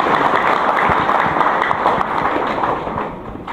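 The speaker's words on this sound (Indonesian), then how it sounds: "Dan tepuk tangan sekali lagi buat Pak Don Muzakir." Audience at a farmers' rally clapping steadily, a dense wash of many hands that stays loud and then tapers slightly toward the end.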